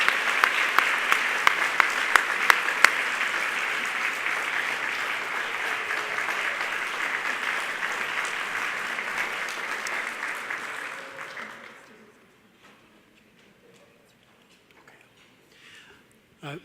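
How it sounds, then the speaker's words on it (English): Students stand to a round of applause at a student awards banquet. Dense, even clapping from a large room goes on for about twelve seconds, then stops abruptly into near silence. "Students, please stand up and give them a round of applause."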